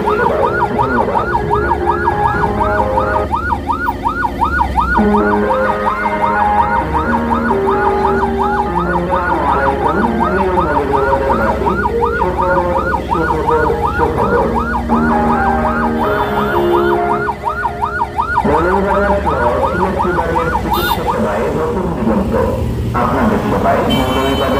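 A life-support ICU ambulance siren in Moulvibazar wails loudly and continuously, its rising and falling tones cycling without a break for the whole stretch.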